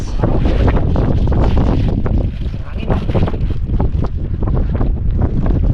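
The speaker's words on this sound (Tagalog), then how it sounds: "Grabing hangin oh. Malakas." Strong wind roars and buffets the microphone continuously, loud and close, with gusty rumbling throughout and no clear talk.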